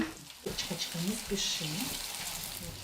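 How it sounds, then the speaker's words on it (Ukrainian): Grated potato pancakes fry in a pan with a steady, close hiss and crackle, while a person talks over the sizzling. "Смажать тертюхи."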